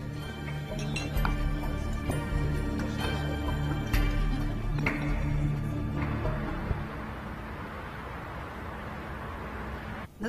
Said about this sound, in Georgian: სკოჩი დამისხი ბევრი ყინულით.